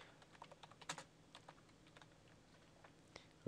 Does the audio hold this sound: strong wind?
no